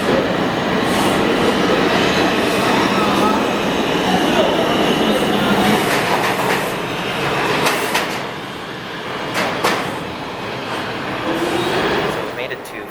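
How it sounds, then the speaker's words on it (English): Loud rumbling of a New York City subway train in motion, with rattling wheels, clattering and brief high squeals, and voices faintly mixed into the steady roar. "now we're switching to a train, either the 4 or the Q."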